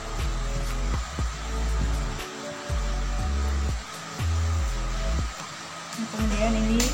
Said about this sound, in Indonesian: Kemudian langsung aja ini kita jahit.